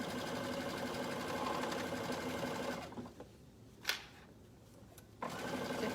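A sewing machine runs a zigzag stitch along a swimsuit edge, a steady close whir for about three seconds, then stops with a few faint clicks before starting up again.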